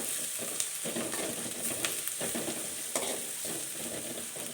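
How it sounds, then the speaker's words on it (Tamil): Garlic and onion sauté in a pan for a snake gourd kootu, a steady close sizzle broken by repeated stirring scrapes, quiet and without talk. "பூண்டு போட்டு அதையும் நல்லா வதக்கிடணும்."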